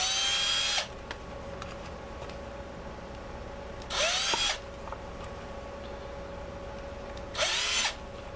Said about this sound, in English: why did you drill a pilot hole to begin with?